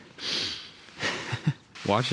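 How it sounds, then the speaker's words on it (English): Short nasal sniffles right after taking a photo, a few quick breathy snorts spaced between bursts of a person talking nearby. "someone told me that I sniffle after I take every single photo"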